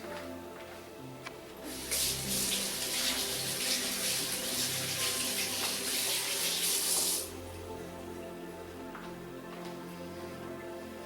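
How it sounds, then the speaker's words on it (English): Hands are washed under a running kitchen tap, with a steady hiss of water that starts strongly and then cuts back to quieter background noise after about five seconds. "Alright, I'm going to wash my hands."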